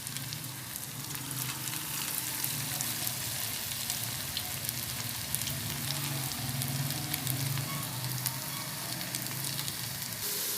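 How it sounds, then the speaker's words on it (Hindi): Pakoras made from leftover khichdi fry in hot oil, a steady, soft crackling sizzle with scattered pops that persists evenly throughout. "हमारा ऑयल बहुत अच्छे तरीके से गर्म हो चुका है। अब हम इसमें पकौड़े डालते जाएंगे आहिस्ता आहिस्ता।"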